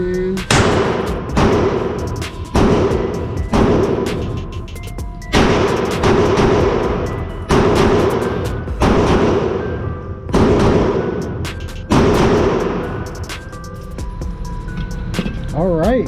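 Glock 43X pistol firing from 15-round magazines, a steady string of sharp, loud shots in rapid rhythm with short pauses between bursts, close to the mic and no talking.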